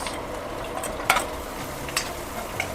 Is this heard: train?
no